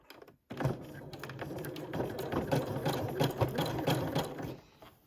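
Sewing machine stitching a twisted fabric rope into a bowl, a steady close mechanical whir running continuously after a brief pause at the start, with no talking.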